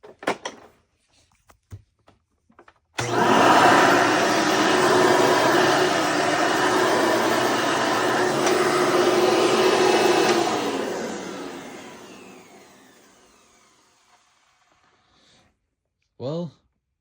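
A Hoover Encore Supreme upright vacuum cleaner starts abruptly and runs with a loud, steady whine and roar for several seconds before winding down, with a few clicks and knocks before it and a brief voice after.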